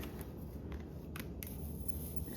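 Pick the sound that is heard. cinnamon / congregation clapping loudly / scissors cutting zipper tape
scissors cutting zipper tape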